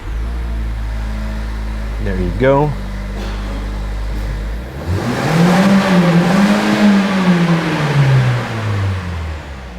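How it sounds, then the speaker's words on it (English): A Toyota Yaris iA sedan's small 1.5-liter engine cranks and catches at startup, then revs up and settles back into a steady idle, loud and close, with a brief voice speaking over it. "So let's go for a little startup of the engine."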